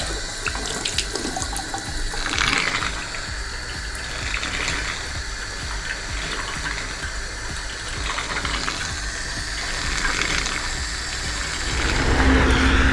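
Water runs steadily from a tap into a canister tank at a trailer, a continuous rushing, splashing flow that stays loud for the full thirteen seconds with a faint engine hum behind it.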